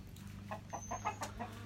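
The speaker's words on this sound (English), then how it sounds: "all the new chickens are hanging out" A small flock of backyard chickens, including newly added birds, clucks in a quick series of short, soft calls at close range, with no talk.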